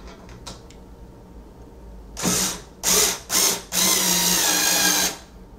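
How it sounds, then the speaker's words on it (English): Cordless screwdriver driving screws into an IKEA Malm high bed, four loud whirring bursts of rising length, the last running about a second and a half, close by after a few faint clicks. "This is where your cordless screwdriver is going to come in handy."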